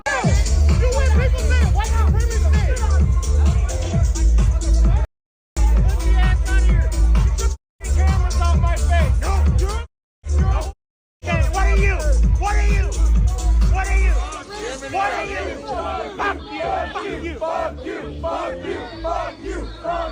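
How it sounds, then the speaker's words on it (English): A large crowd chants and yells in loud rhythmic bursts at a security guard on stage, with a few abrupt silent gaps; the roar then falls away into quieter, scattered shouting. "Everybody is chanting at him."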